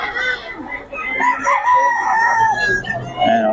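Close, loud crowing from a Black McRae gamecock in Bocaue, with a long wavering cock-a-doodle-doo that carries through most of the moment and clucks from other fowl in the background.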